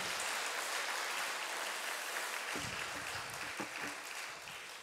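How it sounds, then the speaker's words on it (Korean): A congregation at a church prayer meeting gives soft, distant applause that carries on evenly for a few seconds, then thins out and fades, with a few low bumps partway through. "박수를 치시려면 제대로 쳐주시고요."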